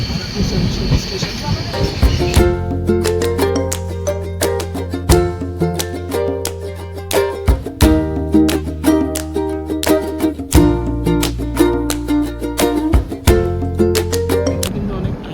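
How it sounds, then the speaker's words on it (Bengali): A train on the Visakhapatnam to Araku line rolls into Araku station, its wheels giving a loud, rhythmic clickety-clack over rail joints with brief squeals and a hiss as it slows. Speech is heard faintly underneath. "আর এই মুহূর্তে গাড়ি ঢুকছে আমাদের আরাকু সেন্ট্রাল স্টেশন।"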